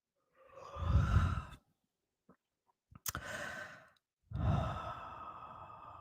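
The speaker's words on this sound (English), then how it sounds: "And here comes another yawn." A person yawns and exhales twice in long, breathy, close-up swells, separated by a short quiet pause with a few faint clicks.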